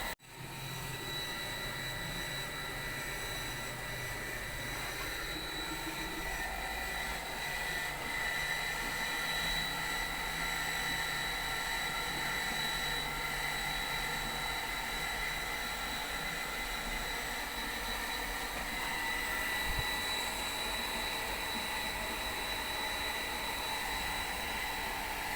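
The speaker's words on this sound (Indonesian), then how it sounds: "Setelah dipastikan mesin pompa air ini hidup" Japanese water pump engine running steadily, a constant even mechanical drone with a whining hum, moderately quiet and unchanging, no voices.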